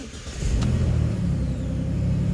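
A 2009 Jeep Liberty with a fuel pressure drop and hard-starting fault cranks and catches near the mic, then settles into a steady, loud, low-pitched idle.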